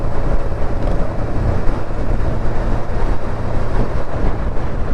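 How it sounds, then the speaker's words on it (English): A 1992 Yamaha Seca II 600 motorcycle on a test ride, its engine a steady broadband rumble with heavy wind rush over the microphone, loud and continuous without letup. "the project bike is running really good, handling good"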